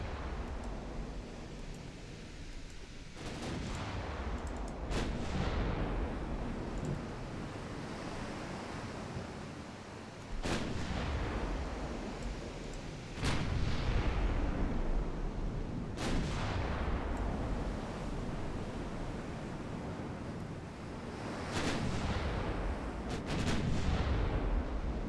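Naval artillery fire in the warship game Ultimate Admiral Dreadnoughts, several heavy booming gun salvos spaced seconds apart over a constant roar of sea and wind, loud and without talk.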